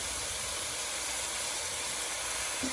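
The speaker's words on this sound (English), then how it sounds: "we're going to keep sauteing" Leeks sauteing in olive oil in a pan give a steady, even sizzling hiss that holds at a constant level throughout, with no talk over it.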